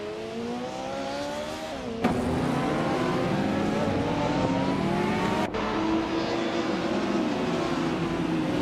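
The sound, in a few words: Porsche 968 Turbo RS race cars lapping in a racing video game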